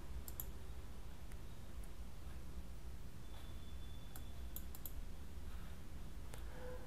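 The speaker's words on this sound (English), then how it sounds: "Just click on that and give the permission as yes." A computer mouse clicks a handful of times during an Oracle 10g installer session on Windows, each click faint, sharp and isolated against a quiet room hiss.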